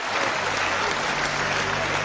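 Members of parliament applaud after a speech by Nigel Farage, a full, continuous wash of clapping from a large chamber audience, steady and loud throughout.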